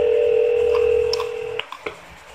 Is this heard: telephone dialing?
yes